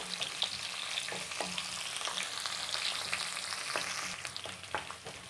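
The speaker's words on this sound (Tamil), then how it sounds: "இது எண்ணெயில் கொஞ்ச நேரம் நல்லா வதங்கட்டும்" Steady oil sizzle with soft crackles and occasional stirring scrapes as sliced onions sauté in a pan close by for cabbage kurma.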